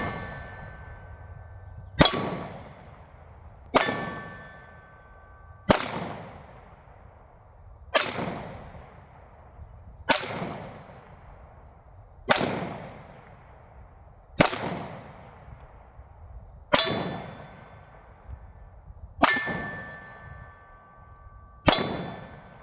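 A Taurus PT92 pistol fires double action through its first magazine, nine or ten sharp, loud reports at a steady two-second rhythm, each leaving a ringing decay with no talking between shots.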